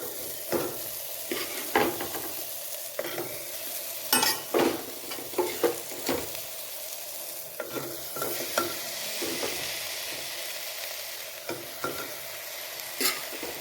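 Rice is added and stirred into softened tomatoes in a pot of home-made dum biryani. Steady frying sizzle with repeated scraping stirs and spoon taps against the pan, close up, with no voices.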